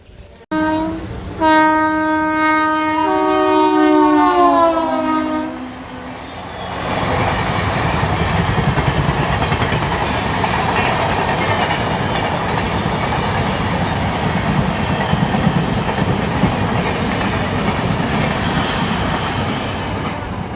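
The Chennai–Bilaspur weekly superfast express passes, its horn blaring for several seconds before giving way to a loud, sustained roar of wheels and carriages with rhythmic clatter and occasional squeal.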